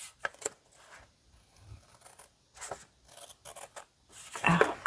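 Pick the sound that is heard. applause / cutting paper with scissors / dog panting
cutting paper with scissors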